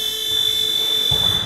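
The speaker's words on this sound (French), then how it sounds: "on va juste attendre la fin du buzzer" Steady electronic buzzer tone in a handball gym, continuous and fairly loud for the whole moment, with dull low crowd or room rumble beneath it.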